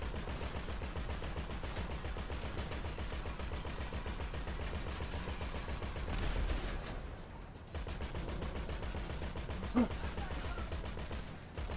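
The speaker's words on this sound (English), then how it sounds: "I'm also shooting the guys here." Gunfire in GTA 5, rapid, steady automatic bursts hammering at a fast regular rhythm, close and loud, with a brief pause partway through before the shooting resumes.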